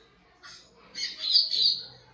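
A black-billed seedeater (coleiro baiano) sings a short, bright burst of high whistled chirps, close and clear over quiet background.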